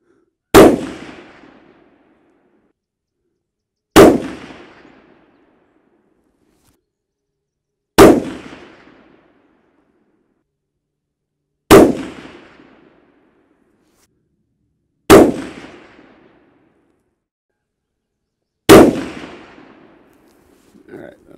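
Six suppressed rifle shots from a CZ 527 Carbine fitted with a Surefire SOCOM 7.62 Mini suppressor at a shooting range, each a sharp loud crack with a short decaying tail, spaced roughly every three to four seconds.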